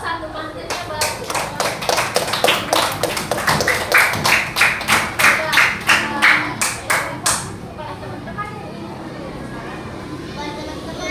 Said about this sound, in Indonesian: Tepuk tangan dulu untuk kelompok 1, pantunnya bagus.